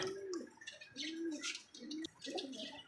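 Fantail pigeons for sale coo softly in repeated rolling phrases, faint and fairly close, with light chirps and rustling around them.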